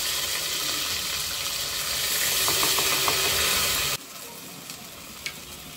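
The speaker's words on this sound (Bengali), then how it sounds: "এখানে সে মশলা বাটা ছিল এটা দিয়ে দিচ্ছি" Ground spice paste tipped into hot oil already tempered with bay leaves and whole garam masala, sizzling loudly and steadily up close, then the hiss abruptly drops to a much quieter simmer with occasional small pops.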